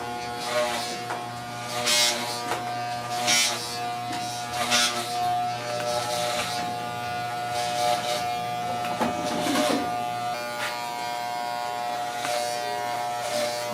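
Electric hair clippers buzz steadily and fairly close while cutting a man's hair at home, a continuous motorized hum with slight shifts in tone as the blade moves through the hair, and no talking.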